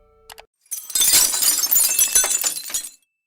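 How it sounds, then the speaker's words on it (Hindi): Glass shattering in a single loud crash, a bright burst of breaking shards spilling for about two seconds, preceded by a short clink and ending abruptly in silence. "तभी उन्हें जोर से शीशा टूटने की आवाज आती है।"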